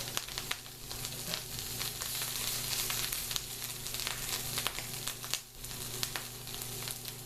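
Mushrooms and onions frying in a pan, a close, continuous crackling sizzle with occasional stirring pops, steady throughout with no talking.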